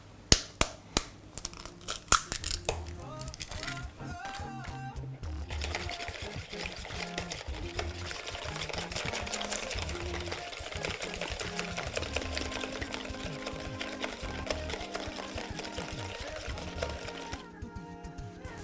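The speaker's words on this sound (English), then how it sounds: "So I'm gonna start by whisking some egg." Eggs whisked in a bowl for Persian patties, opening with a few sharp clinks before settling into a fast, steady rattle that runs close and continuous under a bed of background music.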